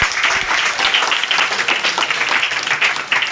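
Students in a Hindi grammar class clap together for a classmate's correct answer, a bright, energetic burst of many hands that stays loud and steady from start to finish.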